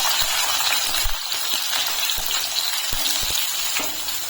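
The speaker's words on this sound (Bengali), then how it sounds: "এখন আমি এর ভিতরে দিয়ে দিচ্ছি রসুন কুচি, তারপরে দিয়ে দিচ্ছি পেঁয়াজ কুচি।" Chopped garlic and onion dropped into a spoonful of hot white oil, a loud steady sizzle and crackle with occasional soft knocks of a utensil, continuous and close.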